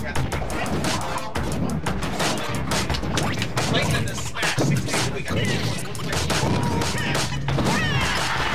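A Charizard forward smash in Project M, the Super Smash Bros. mod, landing during a tournament match amid dense, loud game effects, crashes and hits, with commentators talking over the action.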